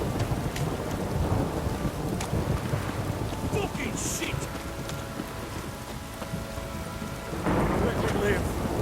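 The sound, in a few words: heavy rain and thunder in The Witcher 3 video game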